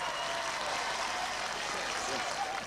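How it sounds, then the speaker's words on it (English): Studio audience applause greets cheerleaders at a 1981 televised knockout competition, a continuous wash of clapping with voices faintly mixed in. "Give them a round of applause. Come on, applause for them."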